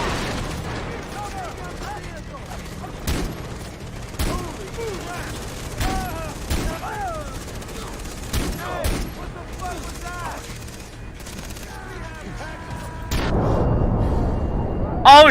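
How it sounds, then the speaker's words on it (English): A .50 cal turret machine gun firing in the video game Far Cry 3, repeated heavy gunshot bursts and booms mixed with game noise, with excited voices talking over much of it. "I'll cover with the 50 cal."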